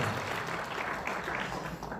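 Audience at an outdoor patriotic rally applauding a singer, a dense steady wash of clapping from many hands, moderately distant and sustained throughout.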